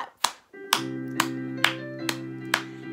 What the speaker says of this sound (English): So we're going to clap our hands and I want you to copy me.